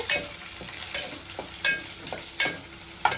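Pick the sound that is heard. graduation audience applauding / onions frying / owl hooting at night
onions frying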